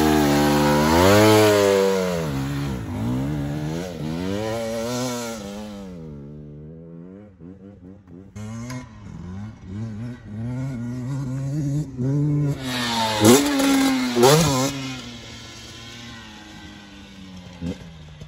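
Dirt bike engine revving hard while riding sand dunes, loud and close, rising and falling in pitch through repeated throttle bursts, with a brief dip as it backs off before climbing again.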